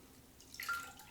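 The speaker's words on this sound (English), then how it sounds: "and I'll pour out the remaining water." Leftover rinse water poured from a jar of green leafy sprouts into a kitchen sink, a faint dripping trickle that swells into a brief splash near the end.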